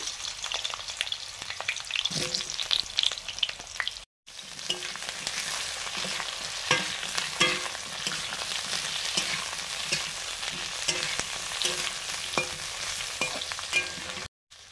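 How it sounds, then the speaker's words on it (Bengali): Eggplant pieces fry in mustard oil in a wok with a loud, continuous hiss and crackle, broken by a brief silent gap and occasional stirring clatter, with no talking. "কড়াতে সরষের তেল দিয়ে বেগুনগুলো ভেজে নিচ্ছি দুটো রান্নার জন্য।"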